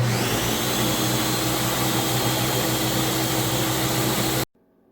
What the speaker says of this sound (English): blend the remainder